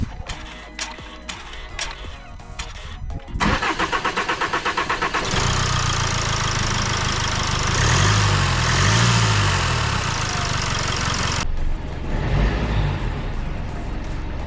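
A Range Rover Evoque with a blocked oil filter, after a full service, cranks with a rapid starter chatter, catches and then settles into a loud, steady idle, with an engine rev and some clicking around it.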